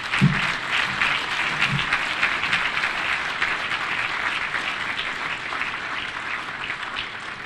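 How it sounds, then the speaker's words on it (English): Sustained applause from a large audience at a national prayer breakfast in Kenya, a dense steady wash of clapping that holds for several seconds, with faint voices underneath near the start. "the round of applause you gave him is not sufficient"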